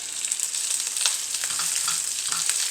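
Mustard seeds, chopped shallots and curry leaves sizzle and crackle steadily in hot oil in a pan, a close, continuous frying hiss with small pops and no voices.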